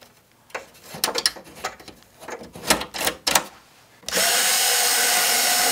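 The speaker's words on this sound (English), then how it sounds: "Just unscrew this little guy right here." Someone unscrews a screw on a PC case: irregular close scraping and ratcheting clicks come in short bursts, then a sudden steady, loud whirring hiss fills the last seconds.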